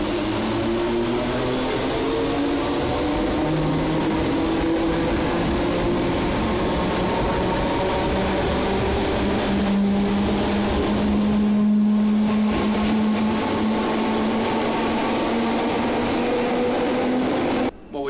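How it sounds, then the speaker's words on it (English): A train arriving at Runcorn Station, a steady loud rumble with rising and shifting engine tones and hum held throughout, close by and with no talking. "here's our train,"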